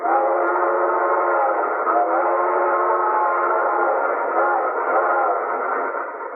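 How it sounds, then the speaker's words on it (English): A train whistle blows in one long, steady, unbroken tone, loud and sustained with no other sounds around it. "the train blew for a water stop 3 miles ahead"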